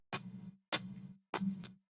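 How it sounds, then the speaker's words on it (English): Drum sample that sounds like pencils clicking, layered with EQ, slight stereo spread and reverb: three short crisp clicky hits with a low body, evenly spaced and alone. "we layer that with this sound that I think sounds like pencils clicking"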